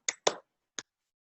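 Hands clap a short rhythm pattern in a quiet room: two quick claps close together followed by a third after a brief pause, crisp and near.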